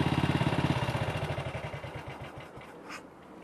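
A motorcycle engine idles just after a kick start, its fast, even exhaust pulses thudding close by, then settling and fading slightly.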